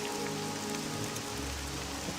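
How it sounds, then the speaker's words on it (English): Steady rain pours down in the Morrowind video game, a constant close hiss of drops on the ground with no breaks and no voices. "it's still it's still raining"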